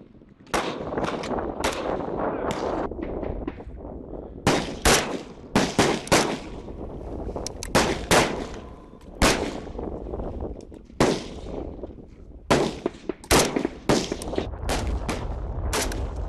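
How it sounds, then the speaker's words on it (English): Rifle shooting practice in prone and kneeling positions: loud, sharp gunshots crack out one after another at irregular intervals, with short echoing decays between them. "Prone and kneeling shooting with the one shot each exposure."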